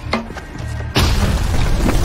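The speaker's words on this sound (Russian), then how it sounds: "Выстрел!" A mortar fires with a sudden loud boom near the middle, followed by a rumbling thud and echoing tail, in a Russian war action battle scene.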